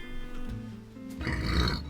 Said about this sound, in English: Sorry, I had to get the burp out.